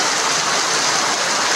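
Heavy typhoon rain pours steadily in Lemery, Batangas, a dense unbroken hiss of falling water close by, with no wind or voices.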